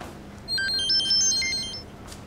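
A telephone ringtone plays a short, bright electronic melody of stepped beeping tones, faint against quiet room noise, lasting about a second and a half.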